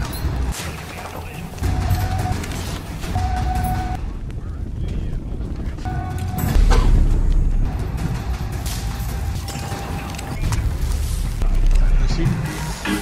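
An explosion blasts through a wall toward an elevator in an action film, with heavy booms and crashing debris in bursts amid rumbling noise, and a voice speaking over parts of it.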